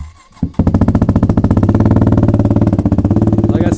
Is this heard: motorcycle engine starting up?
yes